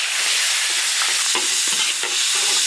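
Garlic, pickled chili and Sichuan pepper sizzle loudly in a hot iron wok, with a steady frying hiss and a few scraping stirs over it.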